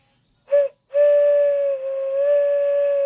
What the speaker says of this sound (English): the Thomas train whistle